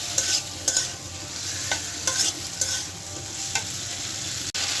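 Potatoes are sautéed with salt and spices in a pan, giving a steady close sizzle. Periodic scrapes and clacks of a spatula stirring break through the sizzle, with no one speaking.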